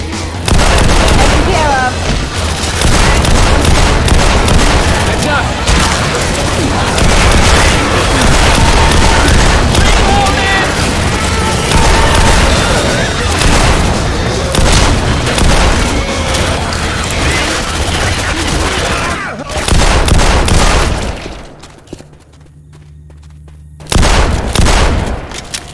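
Dense, loud gunfire and booming blasts from a Counter-Strike match in an office map, continuous rapid shots over about twenty seconds, then a brief near-silent gap before firing resumes, with voices under the shooting.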